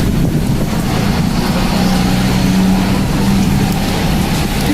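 Strong gusts of wind buffet the microphone on a city street in Toronto, a loud, continuous low rumble filling the whole clip with no voices.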